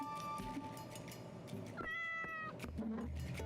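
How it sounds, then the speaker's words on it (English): A cartoonish video-game cat meows twice with clear harmonic tones, set against a busy in-game dungeon soundtrack with faint chatter-like effects underneath. "Meow."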